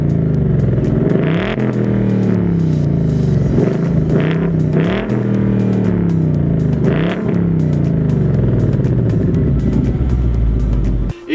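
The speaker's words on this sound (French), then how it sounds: "c'est un vrai bruit de V8 américain." A Ford Mustang GT convertible with a 5.0 V8 and four exhaust tips, heard in snow, rumbles loudly and close with repeated revs rising and falling over a steady deep idle.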